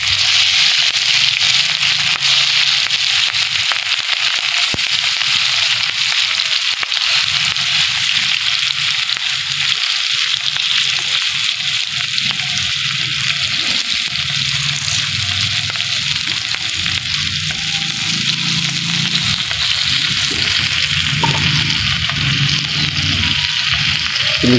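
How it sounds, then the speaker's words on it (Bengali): Hilsa fish frying in a kadai over a rural Bengali kitchen fire, a steady, loud crackling sizzle of hot oil that runs unbroken from start to finish with occasional stirring. "ইলিশ মাছের যে ভাজি করা হচ্ছে,"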